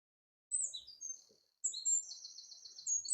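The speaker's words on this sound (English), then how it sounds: "I don't know if you can hear the wildlife, the birds." Birds chirp and tweet in short high bursts across a quiet campsite, one brief call followed by a longer run of rapid repeated notes, faint and somewhat distant with no voices.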